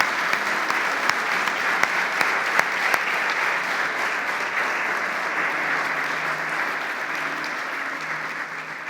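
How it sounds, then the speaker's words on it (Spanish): A church congregation claps during a sermon, sustained thick applause at a steady level for the full stretch, with a few sharper individual claps standing out early on. "Le damos un aplauso a Él."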